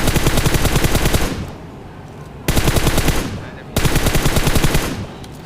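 Automatic gunfire in the mobile shooter game PUBG Mobile, with three loud sustained bursts of rapid shots separated by short pauses, each burst trailing off into echo.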